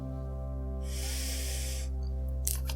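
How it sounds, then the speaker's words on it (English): A close inhale sniffing perfume sprayed on skin, a soft broadband breathy rush lasting about a second over a steady low hum, followed by a faint brief spritz-like hiss. "And if we smell it, like sniff it closely."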